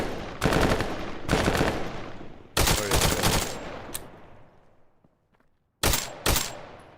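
Automatic gunfire in Tactical Assault VR comes in several loud, sharp bursts with echoing tails, separated by short gaps and a near-silent stretch near the end.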